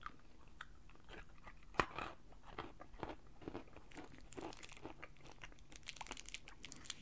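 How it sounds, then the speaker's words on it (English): Someone wearing dentures chews crunchy Whoppers malted milk balls, with close, quiet, steady crunching and crackling bites throughout. "And these are actually pretty crunchy, to be honest."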